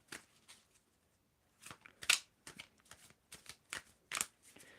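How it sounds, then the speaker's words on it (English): Tarot cards being shuffled by hand in short crisp riffling bursts with pauses between, close and quiet, no voices heard. "So, Rad, I want you to tell me when to stop shuffling"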